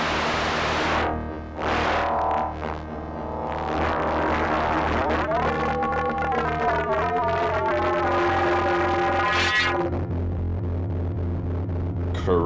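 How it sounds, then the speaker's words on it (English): Sequential Pro 3 paraphonic synthesizer played through a heavy grunge distortion patch, a loud, dense, gritty sustained tone with shifting, sweeping harmonics and bursts of noisy high end, steady and continuous with no talking. "a lot of options when it comes to distortion and stuff in here to make it real aggressive and bitey"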